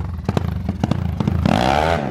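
Honda Biz 283cc motorcycle revving on the street, with sharp throttle blips in the first second and a half, then a steady, higher rising engine drone close to the microphone.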